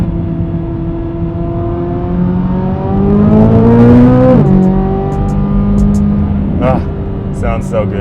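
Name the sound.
Chevrolet Corvette C8 Z06 engine revving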